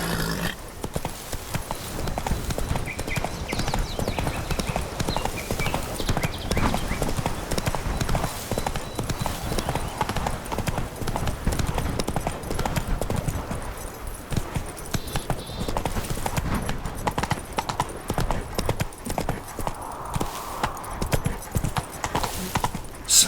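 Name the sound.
horse galloping hooves in video game The Witcher 3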